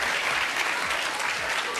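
Audience applause at a Brazilian SBT television program, a dense, steady wash of many hands clapping that is loud and continuous throughout.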